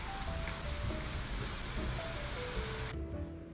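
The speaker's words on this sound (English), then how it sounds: "It's raining." Steady, dense rain pours down continuously at close range with no voices, the broad hiss easing slightly in the final half second.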